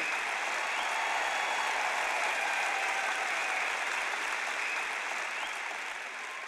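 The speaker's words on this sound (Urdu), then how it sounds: "اگر آپ تالی بجانا چاہتے ہیں تو کھل کر بجائیں" Dense, steady applause from an audience at a sermon fills the space evenly for several seconds, many hands clapping at once at moderate distance without a break.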